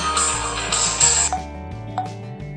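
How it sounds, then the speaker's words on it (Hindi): A mobile phone's melodic ringtone plays nearby, with clear steady notes and a repeating bass pattern that carry on alone, set off by hand clapping through a phone-finder app. "आपको आवाज आ रही है, मोबाइल की रिंगटोन बज रही है।"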